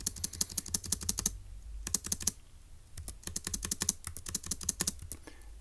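Fingers type on a computer keyboard, with close, crisp keystrokes in quick runs separated by short pauses and no voices.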